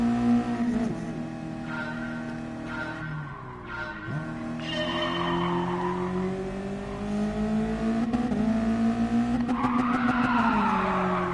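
Car braking hard and skidding in the racing game Gran Turismo Sport, a loud sustained engine drone with tires squealing and sliding, the pitch dipping as the car slows then climbing again as it revs back up.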